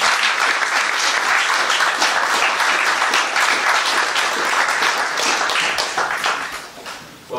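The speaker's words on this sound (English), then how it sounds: "let's welcome David Straub with a big round of applause" A lecture audience gives a big round of applause to welcome a speaker. Dense, steady clapping from a full room fills the clip, then tapers off near the end.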